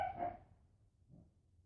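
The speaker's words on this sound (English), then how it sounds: "damn dog again" A dog barks in a short burst, then gives a softer second bark, fairly faint, in a workshop setting.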